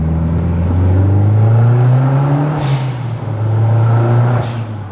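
A modified Mazda 6 MPS engine drones loudly from inside the car under load, a steady deep hum rising gradually in pitch as it accelerates, with two short hissy bursts along the way.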